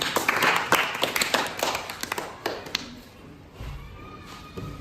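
A group of children clap for a classmate named Priya after she solves a matchstick puzzle by moving two sticks to form six triangles; a brief burst of scattered hand claps and taps fades out within a few seconds.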